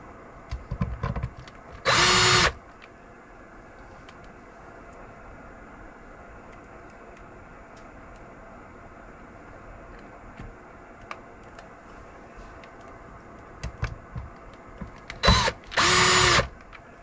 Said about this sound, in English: See how long that drill spun and then didn't get to the bottom.